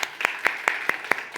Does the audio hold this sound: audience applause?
yes